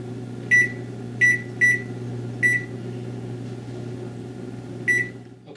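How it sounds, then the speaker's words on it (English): A kitchen timer set for a bread dough's final rise gives five short, sharp beeps at uneven intervals, clear and close over a steady low appliance hum. "now I'm just gonna set the timer for the last rise"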